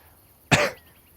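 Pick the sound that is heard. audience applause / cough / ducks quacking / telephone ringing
cough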